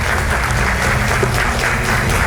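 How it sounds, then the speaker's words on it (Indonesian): Steady, dense applause from a studio audience on a political talk show, loud and continuous for the whole stretch with no voices standing out. "Kita berikan tepuk tangan."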